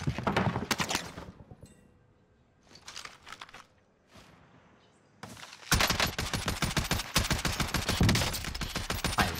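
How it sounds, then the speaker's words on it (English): An MP5 submachine gun fires in the Call of Duty Warzone video game. Rapid full-auto bursts come close and loud, with pauses between them, then a long sustained burst. "I'm going to go ahead and let the, this gun speak for itself in these two gameplays we got coming up"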